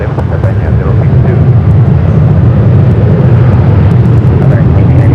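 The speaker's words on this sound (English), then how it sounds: "JetBlue 100 up next for takeoff 24 left." A JetBlue airliner takes off from runway 24 left at LAX, producing a loud, close, continuous low engine roar that fills the whole stretch without letting up, with faint radio voices underneath.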